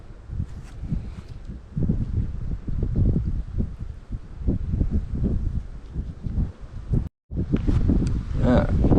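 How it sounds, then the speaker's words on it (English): Wind gusting across Unicoi Lake while fishing, a low rumbling buffet on the microphone with rustling, steady and close, and a person talking over it. "Wind is definitely picking up."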